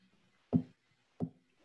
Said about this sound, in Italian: Questa è una bottiglia di birra